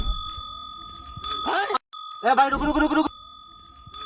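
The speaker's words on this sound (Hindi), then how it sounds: "ए भाई घंटी की आवाज कहाँ से आ रही है?" A bell rings in a steady, ringing tone, broken by a brief gap. Voices talk over it.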